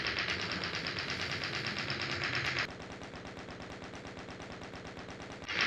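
Rapid machine gun fire from the video game Doom rattles continuously and loudly, with the fast rhythmic bursts shifting in tone partway through the steady stream of shots.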